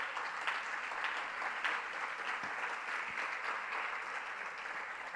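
A church congregation applauds in praise of God, a steady wash of many hands clapping, fairly distant and even, sustained for several seconds without pause.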